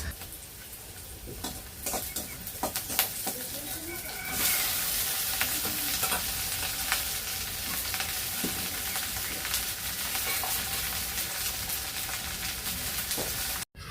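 Okra frying crisp without spices in a pan over a village clay stove makes a continuous close sizzle and crackle, with scattered ticks and clinks of stirring throughout and no voices.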